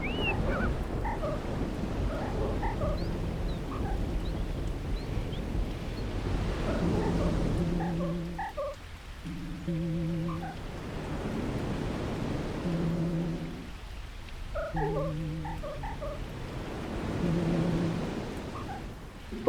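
Steady heavy rain, a continuous hiss of falling water, with music-like tonal notes layered over it throughout.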